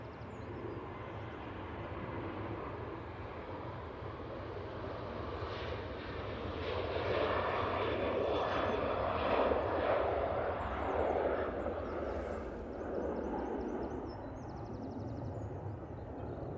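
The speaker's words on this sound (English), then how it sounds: "we have this 737 off to Belfast now" Boeing 737 departing Manchester Airport for Belfast, a distant broadband jet roar that swells gradually to a peak midway and then slowly fades, heard alone without talk.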